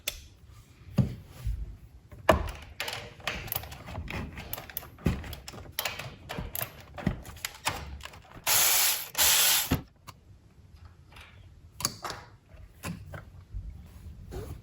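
Socket ratchet clicking in irregular bursts while loosening 13 mm bolts on the shift boot area of a 2007 Dodge Ram Cummins with a G56 six-speed, close and alone, with a louder sustained burst near the end.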